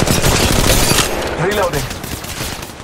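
Gunfire in an Apex Legends Mobile shootout, a loud rattling burst of rapid shots that fades into scattered noise as a voice speaks.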